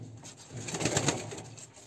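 Caged fantail pigeons give a soft, low coo nearby, one swelling rumble in the middle of a quiet moment.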